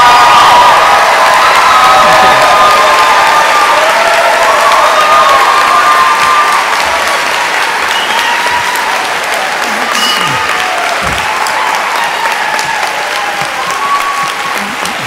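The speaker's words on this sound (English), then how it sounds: "then you can applaud them again too" Loud, sustained applause fills the hall at a live Tennessee gubernatorial debate, with cheers and a few whoops rising early on, then the clapping thins slightly but carries on for about fifteen seconds.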